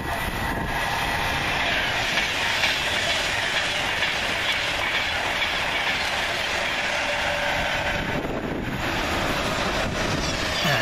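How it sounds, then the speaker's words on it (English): An Avanti West Coast Class 390 Pendolino train speeds through Rugeley Trent Valley station on the fast line, a loud continuous rushing roar with wind buffeting, rail noise and clatter close by. "Avanti West Coast speed through here on the fast line."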